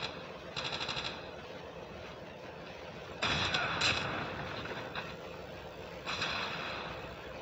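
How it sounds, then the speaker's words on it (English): Video game gunfire in a zombie survival match with a busted tank, heard as several short bursts of rattling shots over a steady rumbling background, one louder volley in the middle. "That lousy firing."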